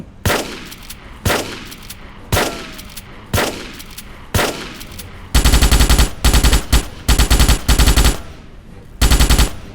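Gunfire in the Starship Troopers video game: several single heavy shots spaced about a second apart, then loud rapid automatic bursts in quick succession, close and dominant.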